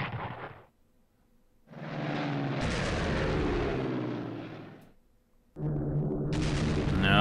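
Aircraft attack in the Strategic Command WW2 strategy game: loud, sustained roaring engine and explosive rumble in two long bursts with a gap between, close and dominant, no speech over it.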